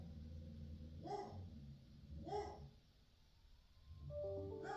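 A dog barks at bin men outside, two spaced single barks and a third starting at the end, moderately close and not very loud, with a faint tonal sound in the background.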